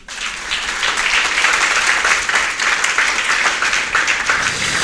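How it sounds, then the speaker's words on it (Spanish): Sustained applause from a church congregation during a Spanish-language sermon on the Protestant Reformation, a dense, steady wash of many hands clapping at even loudness with no voices over it. "¿Le podemos dar otro aplauso, hermano?"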